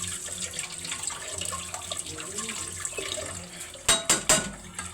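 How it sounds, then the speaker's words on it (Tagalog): Tap water runs steadily over raw chicken pieces being rinsed one by one in a kitchen sink, with a few louder splashing bursts near the end and no talking. "Huhugasan natin sila ng 1 by 1 dito sa ilalim."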